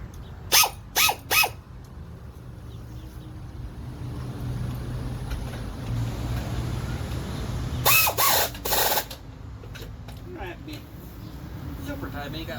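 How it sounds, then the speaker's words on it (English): Impact gun tightening 5/16 drive shaft bolts on a John Deere 318 lawn tractor, two short loud bursts of three hammering rattles each, separated by a long stretch of low engine rumble and someone talking. "I'll grab my noisy gun. I'll go ahead and tighten them drive shaft bolts"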